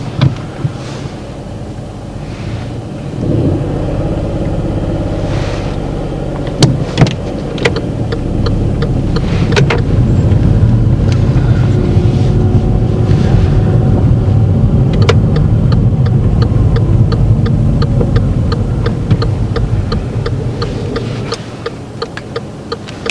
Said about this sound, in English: So I'll pull up next to it and reverse, finishing pretty close to the curb